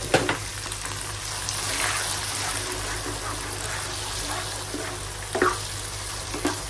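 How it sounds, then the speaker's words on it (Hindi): Minced meat (keema) frying with yogurt in a pan for a spicy bitter gourd keema dish, giving a steady broadband sizzle with a few brief stirring scrapes, fairly close and without talk. "अब दही के साथ इसको अच्छे से हम भून लेंगे कीमे को।"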